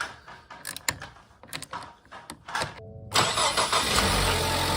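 A 2016 Ford Explorer with an EcoBoost engine cranks with clicks and rattling mechanisms, then catches and settles into a steady, close idle.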